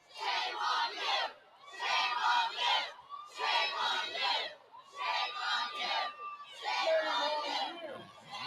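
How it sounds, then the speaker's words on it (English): A parade crowd at the 2022 Salt Lake City Pride parade chants at protesters in five loud, evenly spaced bursts of massed shouting, each separated by a short lull. "if you can hear the crowd chanting, "Shame on you," that's not to Becky Edwards, that's to the protesters"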